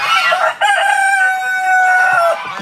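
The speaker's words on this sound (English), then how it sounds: "feeding the chickens, collecting eggs" A rooster crows loudly and close by in one long drawn-out call, with a brief break early on and no other voices.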